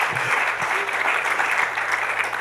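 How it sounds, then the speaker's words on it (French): A church congregation claps loudly for the pastor's wife, dense sustained applause filling the room close and full, with faint voices and a low hum underneath. "Allez, vous pouvez applaudir ma première dame."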